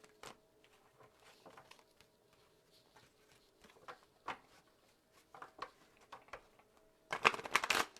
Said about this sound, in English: Let's just shuffle a little more here.